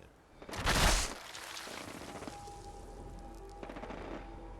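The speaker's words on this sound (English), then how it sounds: "Now, I don't know where the gunfire is coming" Gunfire in the video game Fallout 4 played with a modded setup: a loud burst of rapid shots early on, followed by quieter scattered distant shots and game ambience.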